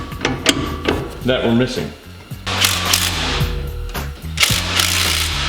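A camber bolt being tightened on the suspension of a Nissan S13: a quick series of clicking ratchet strokes and metallic clacks from a wrench on the bolt, close and sharp, with someone speaking briefly over them.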